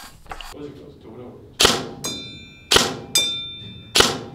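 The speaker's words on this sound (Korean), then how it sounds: "제품을 가지고 실내 사격장에 가서 간단하게 사격 테스트를 한번 하고 오도록 하겠습니다" A G&G MCP556 airsoft electric gun fires at an indoor range: four sharp, loud shots spaced about a second apart, each followed by a ringing metallic decay. Faint background noise comes before them.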